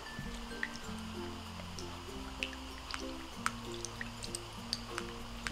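Powdered and liquid laundry detergent are mixed with other slime ingredients, giving close, wet squishing and dripping with soft sticky pops over a low continuous rumble.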